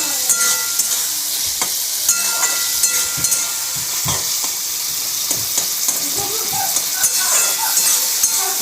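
Mustard chicken sizzles loudly in a pan with onions, turmeric and chili powder while a utensil stirs and scrapes through it, a close, constant frying hiss punctuated by repeated clinks and scrapes.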